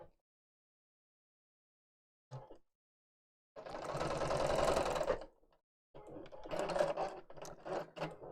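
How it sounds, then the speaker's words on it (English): A sewing machine runs two bursts stitching fabric close to the edge, the first a steady whir of about two seconds after a brief tap, the second choppier, near and clear with no talking over it. "So let's sew that in place"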